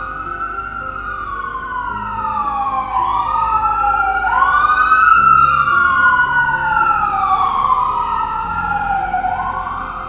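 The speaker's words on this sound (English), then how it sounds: "You hear that constantly, right? The police sirens." A police siren wails continuously, rising and falling in long sweeps, loud and steady with overlapping tones, no talking.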